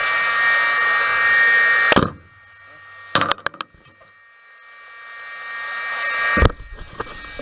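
A heat gun blows steadily with a strong airy whoosh as it heats and softens a plastic sun visor mount in a Nissan S14 240SX, cutting off, followed by a few sharp clicks and handling knocks, then the blower rises again.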